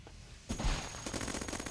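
A junk cannon fires at swarmer robots in the Cogmind video game, a quiet start giving way to a burst of rapid, rattling shots with sharp impacts and a final loud blast.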